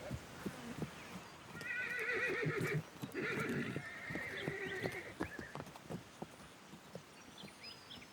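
Wild horses in the Australian outback whinny loudly and repeatedly over a steady clip-clop of hard hooves as the herd moves across thin vegetation, the calls rising and overlapping before hoofbeats carry on alone.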